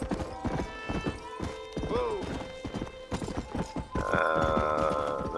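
Horse in the Red Dead Redemption video game, hooves clip-clopping in a quick steady rhythm with a short whinny partway through, up close and under a bit of game music.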